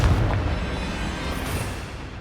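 A Confringo fire spell blasting in Hogwarts Legacy during a magical duel, a loud close explosive burst at the start that trails off into a fading roar.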